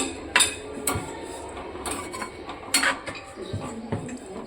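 Chickpea curry being stirred in a pan, Marathi-style, with a spoon clinking and scraping against the metal in several sharp knocks over a low background hiss.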